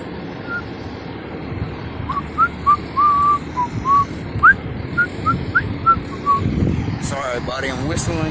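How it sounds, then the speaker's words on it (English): A person whistling outdoors in a string of short separate notes and brief phrases at moderate distance, with wind noise and a low vehicle rumble beneath, and a voice speaking briefly near the end. "Sorry, buddy, I'm whistling."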